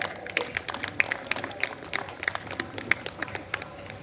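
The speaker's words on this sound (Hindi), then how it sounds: "एक बार मंगला जी के लिए जोरदार तालियां।" Spectators at a Narmadapuram poetry gathering applaud a poet with brisk, dense clapping that holds for several seconds at a moderate level, with no talk over it.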